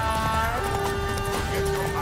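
Horse galloping in the video game Witcher 3, quick rhythmic hoofbeats with a neigh, over steady game music and ambience, fairly close and loud.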